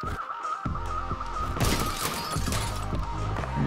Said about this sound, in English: We have to replace a lot of these glass ceilings. Keep getting broken.